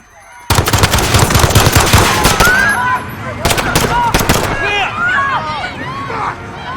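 Heavy automatic gunfire and single shots crack loudly in the Call of Duty Modern Warfare video game during a tense street shootout, with bursts coming fast and dense, then thinning out over a background of shouting crowd noise.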